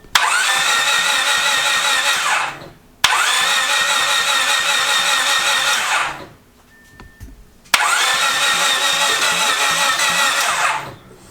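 A rebuilt Honda Civic engine starting and idling, loud and close: it fires up and runs for a few seconds, cuts off, then starts again twice more, each run a steady rough idle, with near silence in the gap.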